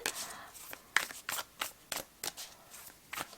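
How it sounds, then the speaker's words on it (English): Tarot cards are shuffled two at a time, giving a steady series of crisp papery riffles and slaps at close range, with faint talk beneath. "we are going to shuffle 2 cards at a time"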